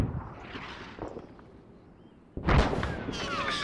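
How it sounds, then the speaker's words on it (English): A heavy artillery impact hits a town in ARMA 3, a sudden loud boom following a stretch of dull rumble and faint low thuds, with the crash lingering in a bright, crackling tail. "we're taking accurate artillery fire in town"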